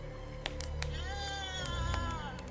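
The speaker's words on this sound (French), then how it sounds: "Je t'amène un chat." A cat meows with a drawn-out, wavering harmonic cry lasting about a second, followed by shorter vocal bursts, set against steady low background hum and a few sharp clicks.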